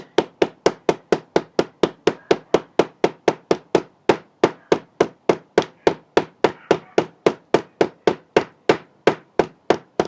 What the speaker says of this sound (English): You can kind of see as you hammer that the color is coming through.